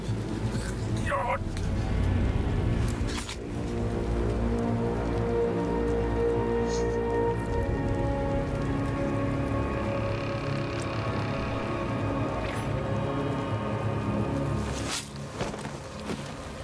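Steady, dense patter of rain in the video game Assassin's Creed Odyssey fills the whole stretch, with a few scrapes and thuds and a brief sharp click near the end.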